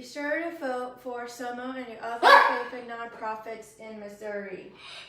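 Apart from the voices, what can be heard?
dog barking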